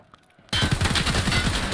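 Gunfire in the video game Escape from Tarkov Arena, a sudden loud, dense burst of rapid automatic shots that starts abruptly after near-quiet and continues without a break.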